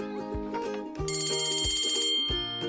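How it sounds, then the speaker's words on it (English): A school bell clangs with a bright, sustained metallic ring, sounding loud and close in a storybook scene set on a bay, its tone swelling and lingering over a soft musical backdrop with no voices. "This is the bell on the school in the bay, ringing the children in from their play."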